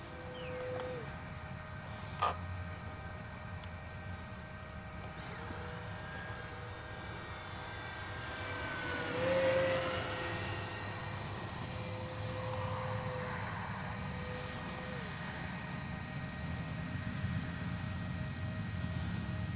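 A Kavan Bristell B-23 RC model airplane engine drones steadily, rising to a louder buzzing whine as it takes off into the wind and climbs away, with wind rumble throughout.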